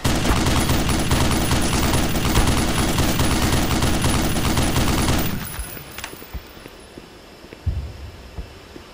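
Turret gunfire in the game Black Mesa, a dense loud continuous automatic rattle for about five seconds, then it cuts off leaving a quiet hum with a few scattered faint thuds.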